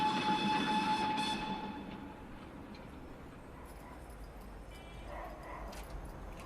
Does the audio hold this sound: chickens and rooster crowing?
no